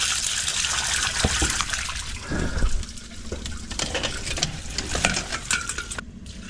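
Water gushing and sloshing through a blocked drain, carrying chunks of gunk, a steady close churning wash with brief bursts and no voices.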